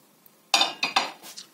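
Oven-baked zucchini, eggplant and carrot are scraped into a pot with a utensil: a few sharp metallic clinks and scrapes in quick succession after a short quiet moment, close and clear.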